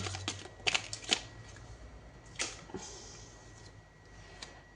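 Tarot cards shuffled and drawn by hand, with quick papery flicks and snaps clustered at the start and a few softer slides and taps after, close and quiet with no voices.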